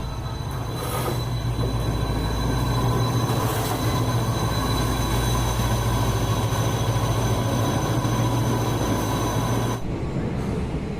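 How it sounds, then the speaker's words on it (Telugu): A passenger train pulls into the newly built Medak railway station in Telangana, its steady rolling rumble and wheel noise close and loud, with a high squealing tone held throughout before the sound eases near the end. "ఈ ట్రైన్ ఇప్పుడు వచ్చి మళ్ళీ సాయంత్రము 4:20 బయలుదేరుతుంది"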